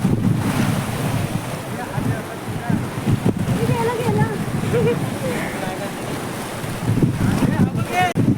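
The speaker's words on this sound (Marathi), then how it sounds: "एकदम भारी असा थंडगार हवा सुटला आहे" Cool wind blows hard across a beach as the tide comes in, making a continuous buffeting roar on the microphone over the wash of surf, with people talking nearby.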